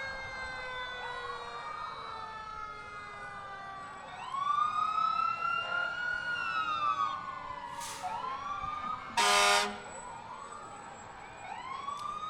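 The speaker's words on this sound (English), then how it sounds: "here comes the Morristown Fire Department, and that is their newest engine" The Morristown Fire Department's newest fire engine rolls by in a Christmas parade in Morristown, Tennessee, its siren wailing up and down loudly, punctuated by sharp blasts of the air horn.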